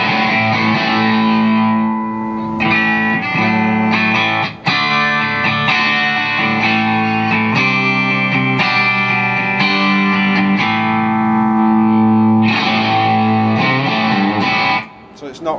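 Electric guitar played through a Marshall CODE amp on a plexi-style setting, loud crunchy distorted chords ringing out in sustained strums with a couple of brief pauses.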